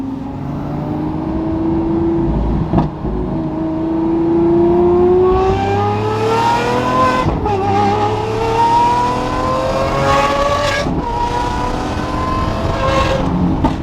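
Gintani-tuned supercar engine pulling hard from inside the moving car, a loud rising drone that climbs in pitch through successive gears with brief dips at each shift, steady road rumble underneath.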